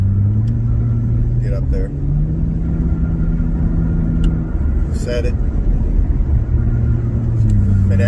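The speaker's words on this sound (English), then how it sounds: "it's pretty loud if you're getting on the gas" A 2024 Nissan Frontier pickup with a custom equal-length exhaust accelerates on a highway, its engine note a loud, deep droning rumble that rises and shifts in pitch through gear changes, heard from inside the cab while a person speaks briefly over it.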